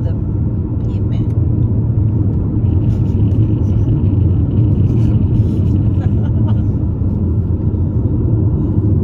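A loud car muffler drones steadily as the car drives down a mountain highway, Highway 38 from Big Bear Lake toward Yucaipa, a constant heavy low rumble throughout with a voice talking over it.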